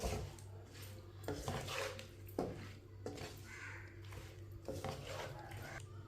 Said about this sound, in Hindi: अब इसी तरह 1 मिनट के लिए चम्मच लगा लेंगे। मसाले हमारे अच्छी तरह भुन जाएंगे।